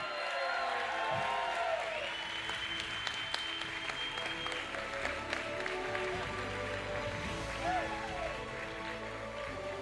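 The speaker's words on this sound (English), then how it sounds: "One more round of applause, maybe get a photo." Crowd applause at a trampoline wall competition livestream, a steady dense wash of clapping running throughout, with voices and cheers mixed in underneath.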